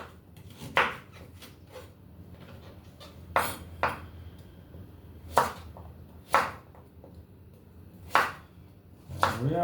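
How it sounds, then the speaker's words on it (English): Knife chopping pumpkin seeds on a cutting board, a string of sharp, close thuds spaced irregularly about one to two seconds apart over a quiet kitchen background, with a faster cluster of chops at the end. "You can't see me chopping, but trust me, I'm chopping right now."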